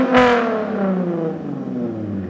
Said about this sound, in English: I don't think I actually ever showed you guys like how my car sounds when it's revving.